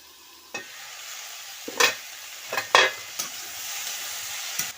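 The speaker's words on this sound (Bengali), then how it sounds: "আস্তে আস্তে করে সবজিটা কষে নিতে হবে" Ridge gourd and potato pieces stir-fry in a pan with salt and turmeric. A low sizzle runs underneath while a spatula scrapes and clacks against the pan in several distinct strokes.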